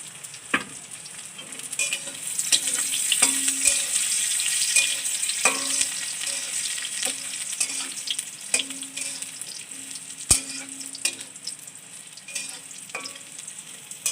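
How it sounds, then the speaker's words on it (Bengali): Cashews and raisins fry together in hot oil, producing a continuous bright sizzle close by, punctuated by repeated sharp clinks and scrapes of a spoon stirring the pan. "এই কাজু বাদাম কিশমিশ সেটাকে আমি তেলের মধ্যে দিয়ে দিলাম"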